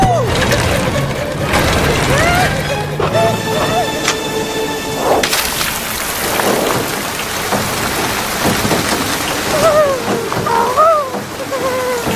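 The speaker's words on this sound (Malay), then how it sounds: "Lebat betul hujan." Heavy rain pours steadily in a loud, dense wash on an animated countryside path, with a few brief sharp effects and a voice speaking over it.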